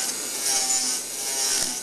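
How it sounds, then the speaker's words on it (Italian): A roughing milling cutter bites into a workpiece, giving a steady, hissing, grinding scrape with slight swells in intensity, heard close and alone. "questa è una fresa da sgrosso"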